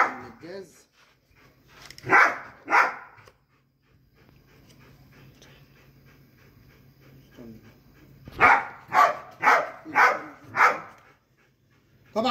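A dog on a farm barks in two bursts, a couple of barks early on and then a quick run of five or so loud, close barks near the end, with panting and a low hum between them.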